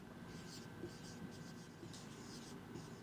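A pen scratches across paper in short, soft strokes with small pauses between them, faint and close over a steady background hiss.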